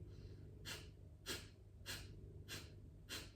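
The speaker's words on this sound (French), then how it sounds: "la respiration du feu, c'est la respiration où on expire assez fortement par le nez" Breath of fire in a spring yoga session: five sharp, forceful nasal exhales at an even rhythm of roughly one every 0.6 seconds, close and quiet against a soft room background.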